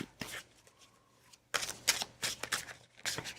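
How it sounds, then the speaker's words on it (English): A deck of Magic: The Gathering cards is shuffled close by, with brief riffling bursts followed by a longer run of rapid papery flicks during a casual Commander game. "shuffle the rest into your library"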